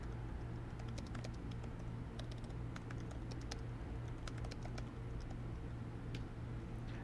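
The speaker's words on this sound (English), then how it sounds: "I love being knocked out of a text box when I'm typing." Quick, irregular clicking of keys being typed on a computer keyboard, soft and close, over a steady low hum with no voices.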